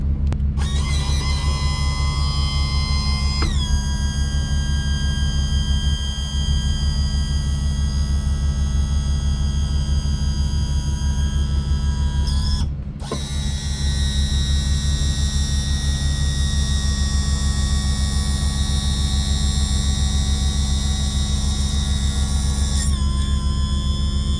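A Yamaha outboard's power trim motor runs steadily after the trim seals have been replaced, giving a loud, continuous electric hum and whine close by. A brief stop around the middle marks it switching direction between trimming up and down.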